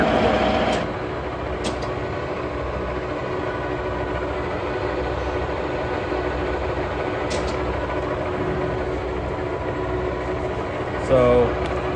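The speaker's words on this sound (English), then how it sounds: "Spindle is feeding out." A Wotan B105S 4-inch horizontal boring mill feeds its spindle out, producing a steady, continuous mechanical drone and hum with a few faint clicks, fairly even in loudness throughout.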